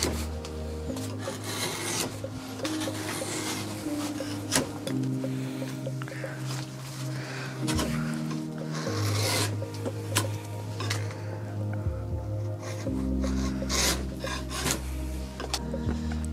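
Steady scraping of a rasp thinning a birch wood bow, with continuous rough rubbing strokes over a low droning background hum that shifts in pitch throughout.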